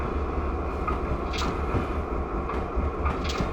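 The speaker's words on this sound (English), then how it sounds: "with the train loaded, the speed can pick up quite fast" A loaded Norfolk Southern freight train in Train Simulator climbs a grade with a steady low rumble of wheels and cars, a few faint clanks over the drone, and no talk.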